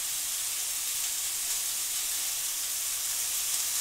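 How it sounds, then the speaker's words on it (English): Green onions cut straight into a skillet sizzle steadily in oil, producing an even, hissing wash of sound with no breaks, close and moderately loud, no stirring or voices. "Just gonna let my onions cook for about 30 seconds."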